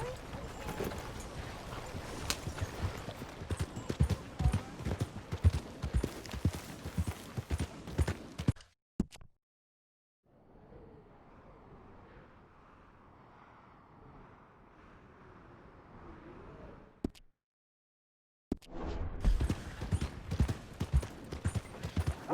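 Horse hooves clip-clop at a steady walking pace in Red Dead Redemption 2 gameplay. The close, sharp footfalls drop out partway through while a quieter wind-like wash fills the gap, then the hoofbeats resume.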